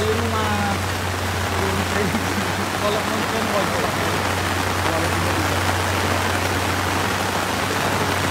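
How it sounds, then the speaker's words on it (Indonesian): Heavy rain pours steadily and loudly onto a clay soil embankment at a roadside repair site, a dense, unbroken wash of noise that fills the whole stretch with no pauses. "Ini hujannya sudah tambah deras ya bosku."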